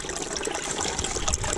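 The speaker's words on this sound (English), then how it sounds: "This pipe here is actually collecting the water and putting it in my barrel right now." Spring water gushing steadily from a collection pipe into a barrel, a close, continuous splashing rush that holds at an even level throughout with no talking.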